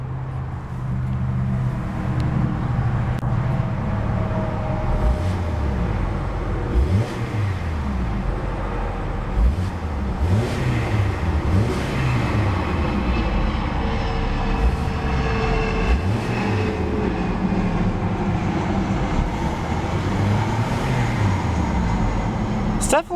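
A 2014 Hyundai Tucson's 2.4-liter four-cylinder engine revs up and down in several short bursts, its pitch rising and falling repeatedly over a steady rumbling background.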